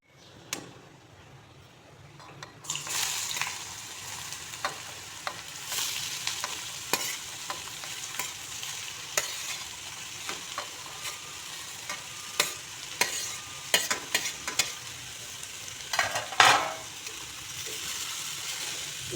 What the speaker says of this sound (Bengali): মূলোগুলো এখন ভেজে নেব।